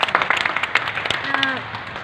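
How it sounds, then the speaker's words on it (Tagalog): A congregation at a barangay prayer meeting claps in a quick, uneven patter, heard nearby and mixed with voices talking over it. "Lakas muli na palakpak."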